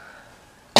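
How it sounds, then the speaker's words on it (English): A single sharp cough at close range, sudden and loud after a quiet stretch of near silence, ending the moment abruptly. "I've got a cough today."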